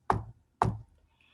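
Two sharp knocks on a door, evenly spaced about half a second apart, close and distinct, then quiet.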